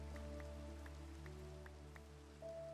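Rain falls in a video game set around a Mediterranean village, a soft, quiet patter beneath gentle tonal background music, with no voices.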